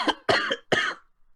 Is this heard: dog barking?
no